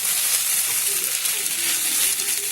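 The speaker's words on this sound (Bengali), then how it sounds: "আমি এতে এক চামচি মতন বাটার দিয়ে দেব" A spoonful of butter sizzles in a pan with vegetables for egg Maggi masala, a steady, close hiss that fills the short stretch without talk.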